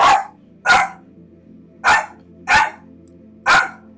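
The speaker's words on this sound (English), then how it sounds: "That's Astro Dog." Five sharp, loud barks from a nearby dog, spaced roughly evenly with short silent gaps between them and no voices.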